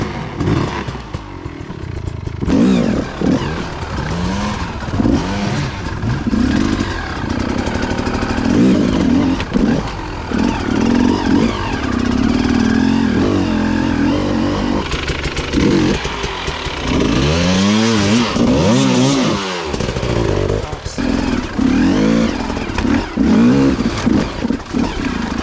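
A motorcycle ridden in first gear, its engine loud and close with a continuous rasping drone that rises and falls as the throttle changes, with no talk over it.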